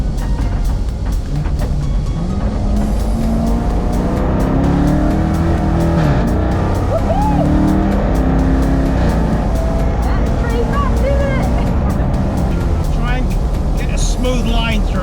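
Race car engine revving and changing pitch through the gears as it drifts downhill at Cadwell Park circuit, loud and close throughout with brief tire noise and a voice speaking over the engine.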